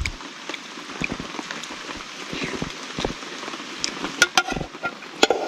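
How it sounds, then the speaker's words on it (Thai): Rain falls in a forest, a steady close patter of drops on surfaces with a few sharper louder drips standing out. "กลางสายฝนอย่างนี้นะครับ"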